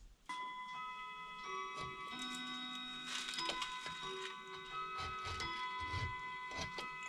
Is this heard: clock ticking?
yes